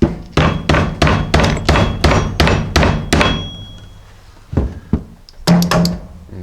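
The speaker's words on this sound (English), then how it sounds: "now I'll take a mallet and hammer this in all the way" A mallet hammers a bushing into a leaf spring eyelet on a 1978 Jeep J10, about ten loud, close, rhythmic thuds, then a pause and a few more strikes.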